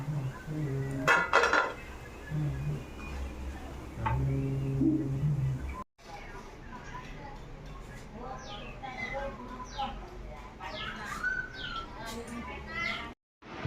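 Metal pots and an idli steamer clink and clatter as they are lifted off a stove in a home kitchen, with sharp close knocks in bursts while a person talks over them.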